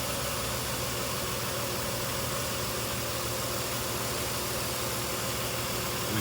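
A car engine idles steadily while its cooling system is bled of air through a funnel, giving a continuous low rumble with a constant hum and no change in revs.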